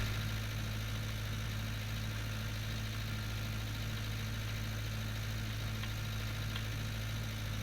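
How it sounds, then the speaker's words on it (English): A tractor in the Farming Simulator 19 video game runs with a baler attached near a shed, its engine a steady low droning hum that holds evenly throughout, loud and continuous with no talking. "we will see how good or bad this tractor is"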